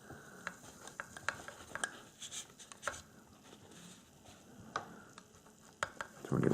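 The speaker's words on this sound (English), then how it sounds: "And I'll keep on stirring." Magnesium stirred in hydrochloric acid during a school metal-reactivity lab, heard as light scraping and clicking strokes with faint fizzing at a steady pace, fairly close and quiet, without speech.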